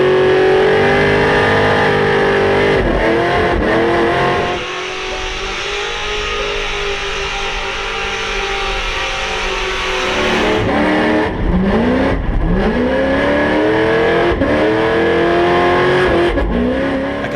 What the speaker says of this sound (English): a car like theirs, burnouts.